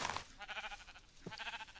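A sheep in a video game gives two short, faint bleats, one right after the other, against a quiet background.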